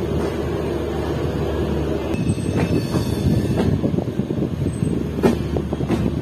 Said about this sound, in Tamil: கரெக்டாக ஆன் டைமுக்கு திருநெல்வேலியிலேருந்து நம்ம ட்ரெயினை எடுத்துட்டாங்க